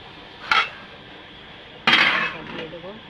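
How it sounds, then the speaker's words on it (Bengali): A metal pot lid is lifted off a pan of fish curry with onions, giving a short clink, then a louder clatter of a spoon scraping and stirring, all in a quiet kitchen. "তরকারিটা একটু ঢাকনা তুলে নেড়ে দেব"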